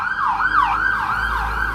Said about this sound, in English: Let that ambulance go by, okay?